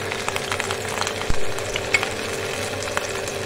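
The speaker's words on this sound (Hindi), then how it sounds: "इसके बाद हम अपनी मछली फ्राई करेंगे।" Fish sizzling steadily in hot oil for a fish curry, a dense even crackle with a single sharp clink of utensil or pan partway through.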